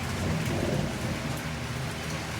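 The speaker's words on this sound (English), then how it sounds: "When we woke up, it started to downpour." A heavy downpour hits outdoors along the Camino de Santiago, a loud, dense rush of rain with low thunder rumbling beneath it. No one speaks.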